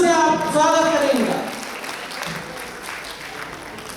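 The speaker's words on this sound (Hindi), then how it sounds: "जोरदार तालियों से आप स्वागत करेंगे।" An audience applauding to welcome a speaker, clapping that swells at first and then settles into a steadier, slightly softer patter, with a voice speaking over the opening moments.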